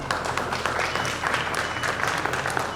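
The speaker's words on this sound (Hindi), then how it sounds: "हम लोग ताली बजाएंगे।" Applause from guests at an Indian Christian wedding ceremony after the ring vows, a steady dense patter of many hands clapping throughout, with faint voices underneath.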